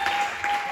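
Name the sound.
audience clapping hands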